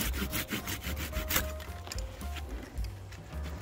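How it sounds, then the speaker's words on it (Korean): A hand saw cuts through thick peach tree branches during pruning, with a quick rhythmic rasp of back-and-forth strokes, close and fairly quiet. "자, 굵은 가지 크게 쳐낼 것을 쳐냅니다."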